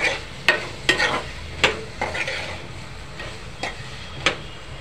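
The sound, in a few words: potatoes added to the pan and stirred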